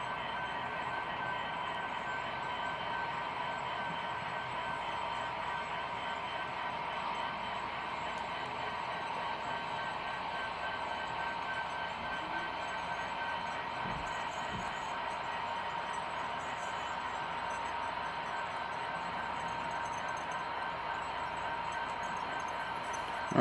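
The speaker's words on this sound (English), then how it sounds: "the train at the north end of the freight yard as it's making its way around the layout on the main line" Big Boy 4015 model train running along the main line of a layout past a freight yard, a steady, even mechanical hum and rolling rumble continuing at a constant level with no talk.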